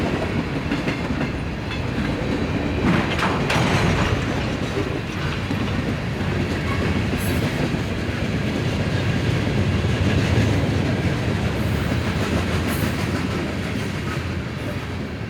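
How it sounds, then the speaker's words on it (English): Long CSX manifest freight trains rumble past steadily at Fortville, Indiana, with continuous wheel clatter and rail noise filling the whole stretch at close range. "Two long manifest trains meet at Fortville."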